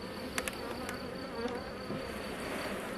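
Honeybees drone in a dense, continuous hum from an opened hive during a brood frame inspection, close and steady, with a few brief knocks and clicks from the frames.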